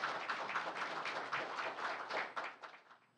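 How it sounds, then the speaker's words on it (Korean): Audience applause at an anniversary ceremony of the Kim Young-sam Presidential Memorial Foundation, following a special lecture: dense, steady clapping from a full room that carries on for a few seconds, then thins and fades out toward the end. "여러분 다시 한번 뜨거운 박수 부탁드립니다"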